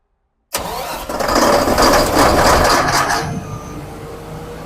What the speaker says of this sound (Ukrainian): Зараз двигун прогріється і буде виходити на свої робочі обороти.